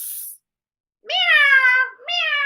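A person imitates a cat with two drawn-out, loud meows close to the mic, separated by a brief pause, with a short hissy burst just before.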